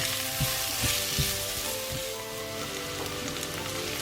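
Continuous soft sizzling and crackling of onion frying in a pan, with a few light taps of a utensil, no voices.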